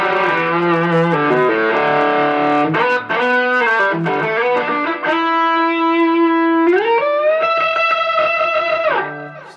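A distorted electric guitar solo with delay and a chorus-like modulation effect plays loud and close, with sustained bends and sliding melodic phrases trailing echoes.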